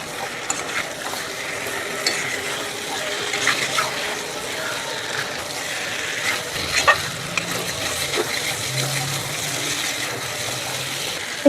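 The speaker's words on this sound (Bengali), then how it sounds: "নুনটা দিয়ে ভালো করে এটাকে এবার মিশিয়ে নেব" Salted masala for a homemade chicken biryani being mixed in a hot pan, a continuous close sizzle with irregular spatula stirring and scraping throughout.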